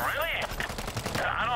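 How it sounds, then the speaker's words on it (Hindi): Heavy gunfire from a big gun in the zombie shooter World War Z, a dense rattle of rapid shots over game noise, with men chattering faintly in the background. "अरे बड़ी बंदूक नहीं चलानी थी, बड़ी बंदूक नहीं चलानी थी"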